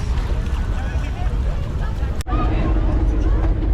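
Wind and a low engine drone surround a boat on the water, with voices chattering in the background.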